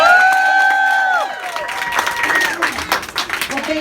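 A campaign kickoff crowd applauding and cheering for a candidate just introduced, a dense wash of claps and voices that swells after a second of tonal music and continues steadily.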